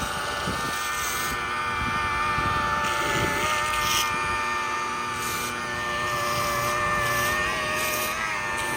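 Rotary buffer spreading Starke Level R Heavy Cut compound, a steady close motor whine and drone that runs unbroken for the whole stretch with only slight swells in pitch.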